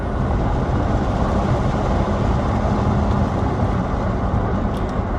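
A Tesla electric car accelerates with almost no motor sound, leaving a steady, loud rush of wind and road noise that stays even throughout.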